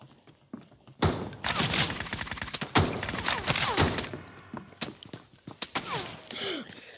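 Rapid gunfire bursts crackle through a video game match in dense volleys, with sharp repeated shots, thuds and brief lulls between salvos.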